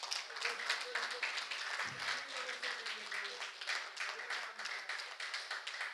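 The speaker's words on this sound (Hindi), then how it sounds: "एक बार सभी के लिए जोरदार तालियां हो जाएं।" Rhythmic, fairly faint applause from an audience at a millet fair stage event, a steady stream of claps with some voices underneath.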